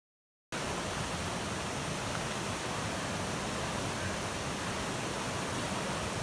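A river flowing across a road on a green route near Sakleshpur, heard as a steady, loud, unbroken rush of water that starts after a brief moment of silence and continues evenly to the end.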